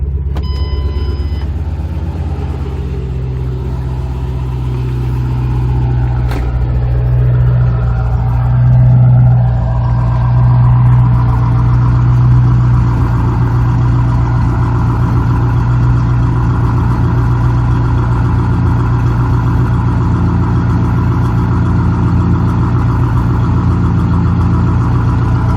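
A modified Ford Mustang GT with an aftermarket exhaust and cold air intake, running E85, idles loudly and steadily at close range, its deep, throbbing rumble swelling briefly near the start before holding a constant, heavy drone.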